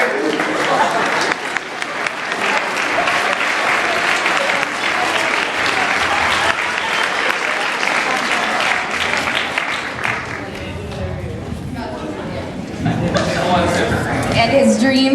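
An audience at a summer camp applauds the junior counselors' skit with loud, sustained clapping mixed with crowd chatter and voices, easing slightly near the end before swelling again.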